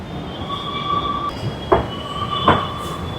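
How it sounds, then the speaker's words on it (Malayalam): A Bengaluru metro train runs along the track with a steady electric whine and tones, two distinct clunks of wheels over rail joints, and a low rumbling hum throughout. "അങ്ങനെ നമ്മൾ മെട്രോ കയറാൻ പോവാണ്."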